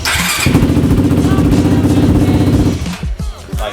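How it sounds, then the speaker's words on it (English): A Yamaha YFZ 450 quad fires up on the first crank, going straight into a loud, steady idle close by, then stuttering and popping before it settles. "Like, starts at first crank."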